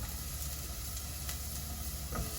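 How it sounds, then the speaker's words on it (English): Thinly sliced onions sizzling steadily in a small hot pan in an RV kitchen, a close, continuous frying crackle and hiss with no talk. "So now the pan is nice and hot. I'm gonna put my onions in it."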